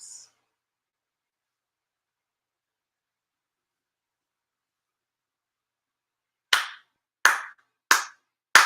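Four sharp ceremonial Shinto hand claps at a Kōsha monthly ceremony, evenly spaced and close, following a long stretch of silence with a brief faint sound at the very start.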